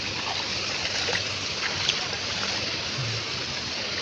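Knee-deep shallow sea water at Dhanushkodi near Rameswaram, a constant broad wash of gentle surf and wind, with a faint low boat-like rumble beneath and no voices.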